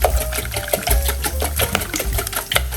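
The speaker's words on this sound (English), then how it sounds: "Give it a nice whisk." Eggs and milk with a spoonful of Dijon mustard whisked in a bowl, a quick rhythmic clatter of rapid strokes sounding close and steady throughout, with no talking.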